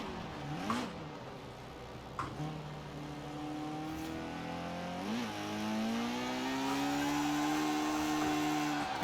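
A 1960 Porsche 718 RS 60 in the Forza Horizon 4 racing game revs through its gears, engine pitch climbing and dropping with each shift before holding a steady rising drone.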